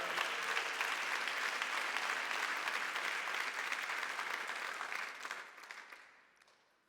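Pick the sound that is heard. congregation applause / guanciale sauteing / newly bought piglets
congregation applause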